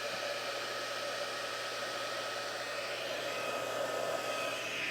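A craft heat tool for embossing preheats, blowing hot air in one steady, unbroken fan-like roar with a low motor hum underneath, close and constant throughout without any talk.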